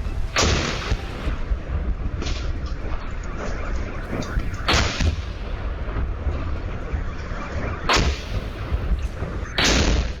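Artillery shells fall and explode in eastern Ukraine, several heavy booms striking at irregular intervals over a continuous rumbling roar of distant bombardment, loud and without voices.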